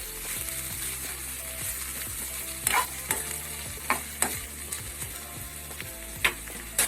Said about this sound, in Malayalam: ഇപ്പൊ നമ്മുടെ ബീട്രൂട്ട് മൂടി വെച്ചിട്ട് ഏകദേശം ഒരു രണ്ട് മിനിറ്റ് മൂന്ന് മിനിറ്റോളം ആയി നമുക്കിത് നന്നായിട്ടൊന്ന് ഇളക്കി വെക്കാം